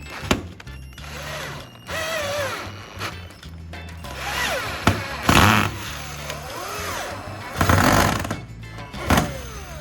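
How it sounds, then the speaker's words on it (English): Screws are driven through a metal hinge into wooden pieces, with bursts of a power driver whirring and ratcheting in several separate runs, interspersed with clicks and handling knocks on the wood, close and fairly loud. "I'll carefully insert each screw into the pre-drilled holes and tighten them one by one"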